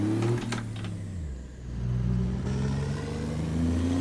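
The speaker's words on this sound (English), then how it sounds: "This truck sounds really good." A used barn-find cabover truck in American Truck Simulator idles and revs, its steady engine drone rising and falling in pitch as the throttle changes, close and continuous with no talking.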